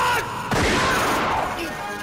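A burst of sharp gunshots crackles amid dense, noisy commotion, with a loud crack near the middle and ringing echoes after.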